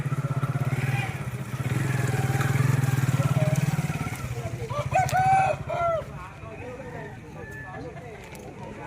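Rooster crowing at a weekly Saturday chicken market in Mamidada, a loud drawn-out call over a steady engine-like drone and crowd noise, followed by other birds and voices as people talk nearby.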